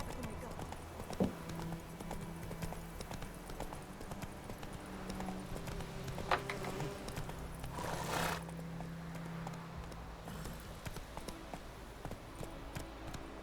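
Roach, a horse in The Witcher 3: Wild Hunt, clip-clopping steadily on the ground, close and moderately loud beneath game ambience, with a brief whinny and a voice talking over it.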